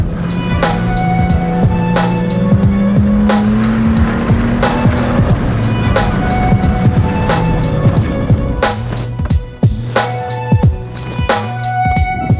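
A small Subaru car climbs a rough mountain trail near 13,000 feet. A loud, close engine drones and labours while sharp knocks and clatter from rocks under the car repeat throughout.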